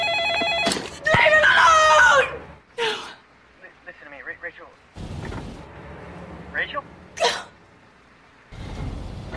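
A telephone rings in short bursts in a horror film, loud and close, with gasps and dramatic sounds between the rings.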